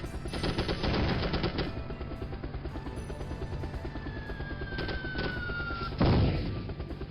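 An artillery strike in the 1998 game M.I.A. Missing in Action: loud, rapid rattling bursts of fire, a thin descending whine, then a heavy booming impact, all without speech.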